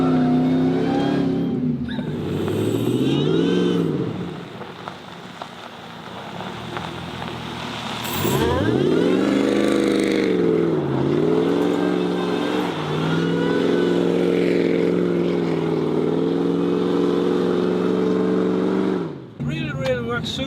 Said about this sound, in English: this is a pickup truck, and it works super.